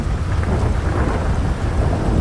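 Heavy rain pours steadily while deep thunder rumbles low and loud throughout, with no voices, in the video game LSPDFR.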